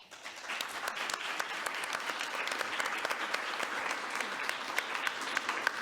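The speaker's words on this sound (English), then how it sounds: "Give yourself another round of applause." A conference audience claps steadily at the ENABLE Scotland Annual Conference 2022, a fairly quiet but even wash of many hands applauding with crisp individual claps throughout.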